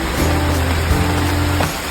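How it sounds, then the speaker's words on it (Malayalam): Rain falls steadily in Kozhikode, a close, even patter over a faint low hum, with no voices. "രണ്ടാമത് മഴ പെയ്തു."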